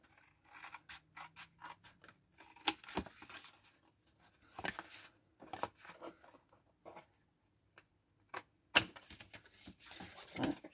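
Scissors cutting cardboard strips, a series of short, crisp snips and scratchy cuts in irregular bursts with brief quiet gaps between them, close and fairly soft.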